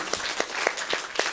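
An audience at an Arya Samaj foundation day program at a gurukula gives a brief round of applause, with several sharper claps standing out over a soft, scattered clapping bed.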